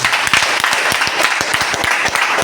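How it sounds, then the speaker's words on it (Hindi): An audience at a Safe Shop business meeting breaks into rapid, energetic clapping, with sharp individual claps standing out from a steady crowd roar that holds throughout. "धमाकेदार ताली जरूर देना"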